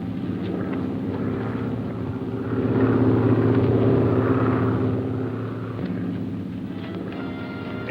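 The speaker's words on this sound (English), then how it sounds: "A plane is circling to land." A propeller airplane circles to land, its engine drone a low steady rumble that swells toward the middle and then eases back, heard alone at a moderate distance.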